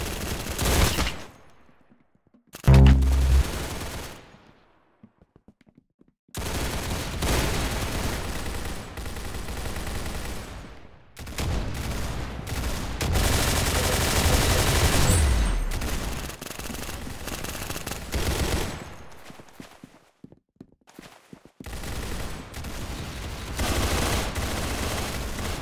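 Dense bursts of rapid automatic gunfire in an Arsenal shooter video game, loud sustained volleys broken by short gaps, with no talking.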